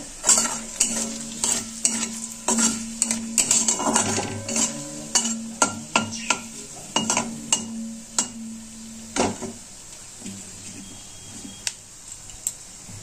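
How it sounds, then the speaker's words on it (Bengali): Cumin seeds, dried red chilli and bay leaf crackle and sizzle in hot oil for a fish curry, with a spoon stirring and scraping the pan in an uneven rhythm, close and fairly loud, no voices. "আমি যে জিরে, শুকনো লঙ্কা, তেজপাতাটা ফোড়ন দিয়ে দিলাম, নাড়াচাড়া করে"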